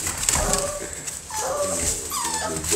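American Bully puppies give faint whimpers and a few soft yips, brief and scattered over a murmur of low room noise, close by.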